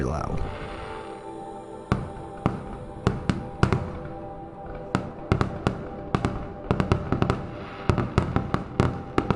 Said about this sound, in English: Yes, that was a lot of fireworks.